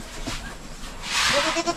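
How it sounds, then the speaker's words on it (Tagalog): Young goats, recently separated from their mother, bleat nearby on a farm in short, close calls that grow louder and repeat toward the end. "Ito yung mga anak sa ating kambing, oh."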